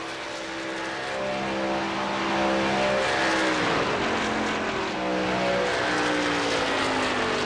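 Race cars circling Talladega in iRacing, a steady roaring drone of engines with droning harmonic pitch shifts as cars pass, loud and continuous throughout.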